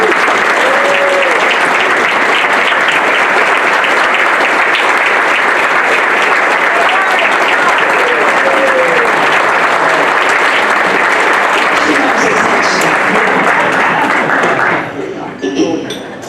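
Sustained applause from an audience at a high school hall of fame ceremony, a steady dense wash of clapping honoring a past board president that fades out at the very end.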